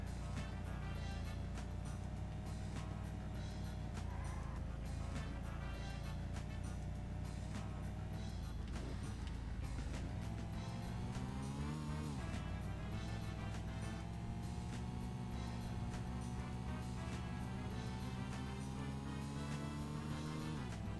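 A Porsche in the PS1 game Need for Speed: Porsche Unleashed runs over a long, slippery track with ups and downs. Its engine drones continuously, with the pitch dipping and climbing through gear changes midway.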